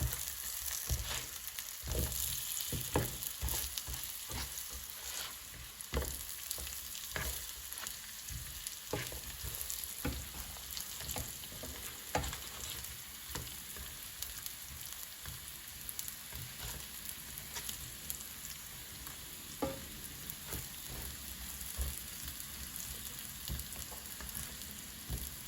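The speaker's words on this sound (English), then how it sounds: "So now the oil is sizzling." Plantain pieces fry in hot oil in a pan at medium-high heat, giving a continuous dense sizzle with crackles and pops scattered throughout, steady and close with no voices.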